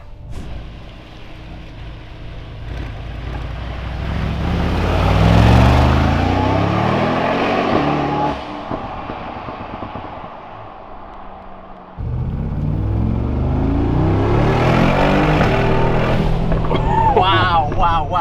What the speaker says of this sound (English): do you hear those turbos?